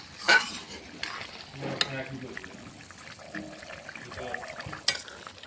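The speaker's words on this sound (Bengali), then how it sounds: "তরকারিটা ফুটে উঠেছে।" Tangra fish curry with black cumin bubbling in a pot, soft simmering and sizzling with a few spoon clinks and stirring scrapes, fairly quiet, with a voice talking partway through.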